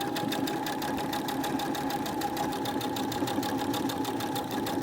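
A sewing machine stitches quilt squares into half-square triangles, its fast rhythmic needle clatter running continuously and close to the microphone.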